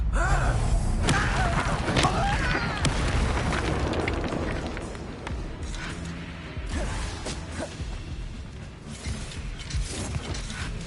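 The Expelliarmus spell is cast in a Hogwarts Legacy duel, bursting out as a loud crackling magical blast with booming impacts and rumbling debris, followed by scattered cracks and clatter of combat effects.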